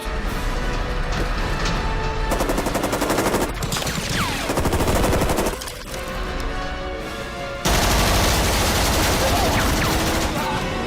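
In the crime film Heat, FN FAL and FNC rifles fire long, loud automatic bursts. Dense, rapid cracks echo between buildings with brief pauses between volleys, then a fresh barrage near the end.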